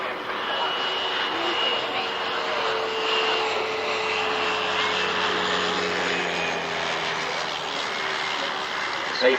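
A Spitfire landing at the 1995 Biggin Hill Battle of Britain airshow, its engine droning steadily and fairly loud throughout, with a commentator's voice running over the aircraft noise.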